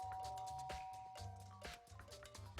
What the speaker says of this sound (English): Press doorbell.